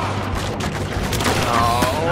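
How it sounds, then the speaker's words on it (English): Bullets crack in a rapid volley during a Battlefield Hardline gunfight, loud, close shots with a faint whistling tone riding on the noise. "Oh, bullets!"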